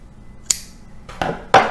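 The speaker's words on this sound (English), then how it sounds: "I'm just going to grab a bundle and just cut it off." Scissors snip through a bundle of cotton yarn for circle weaving, three short, close cuts spaced about half a second apart in a quiet room.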